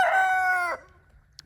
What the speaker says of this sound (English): He makes little rooster noises now. He started crowing.